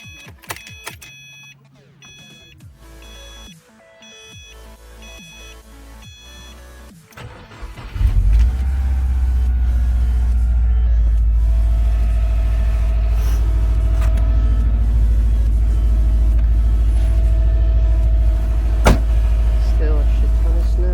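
A Toyota Camry stuck in deep snow during a Philadelphia blizzard, mechanical whirring and clicks giving way to a loud, steady engine drone from about eight seconds on that continues to the end.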